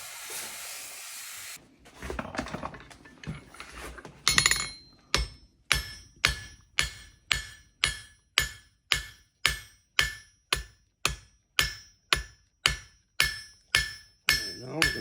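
A blacksmith hammers hot metal into a three-dimensional horse head. After some scraping and hissing, ringing hammer blows fall close and loud in a steady rhythm, roughly every half second, with metallic clang.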